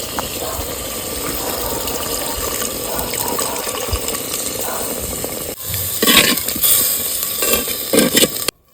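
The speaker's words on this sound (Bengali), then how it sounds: "সামান্য জল দিয়ে দিচ্ছি" Water poured into a pan of Kashmiri aloo dum curry, a steady splashing gush that swells louder near the end before stopping abruptly.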